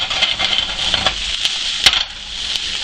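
Fettuccine Alfredo ingredients cooking at medium-high heat on an electric stove, a loud, close, steady sizzle with a few brief stirring scrapes.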